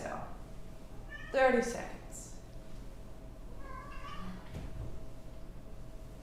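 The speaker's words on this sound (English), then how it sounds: "the cats are absolutely ramped up" Indoor cats meow loudly during a live Christmas-day yoga session, with one clear, drawn-out meow and a second, fainter one a few seconds later, under soft speech and quiet room noise.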